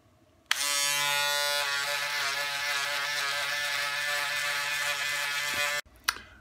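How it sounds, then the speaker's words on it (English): An electric shaver runs across a face before a full face mask is put on, a loud, steady buzzing whir starting abruptly and cutting off after about five seconds, then a brief clatter. "Now, we're all done shaving."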